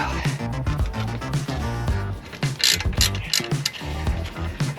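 A hand ratchet clicks rapidly in quick bursts while removing caliper bracket bolts on the rear axle of a 2020 Jeep Gladiator, close and sharp, with brief pauses between runs.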